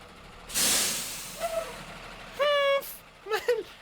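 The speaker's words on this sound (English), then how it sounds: "I like the cute sound a bus made." A big yellow school bus in a cartoon gives a loud hiss of air brakes, then a run of short cartoonish squeaky tones and warbling honks, with a voice heard briefly nearby.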